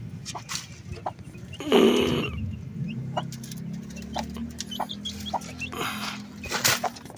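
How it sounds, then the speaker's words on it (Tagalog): Chickens cluck intermittently nearby, with one louder burst of squawking early on, over a steady low hum of background noise. "Tignan natin yung ating mga manok."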